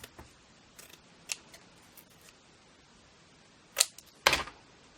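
Scissors trim a piece of paper for a journal in a quiet room. A few small snips come first, then two sharp, louder cuts close together near the end.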